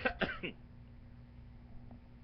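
A few quick coughs in a row, close and fairly loud, then quiet room noise.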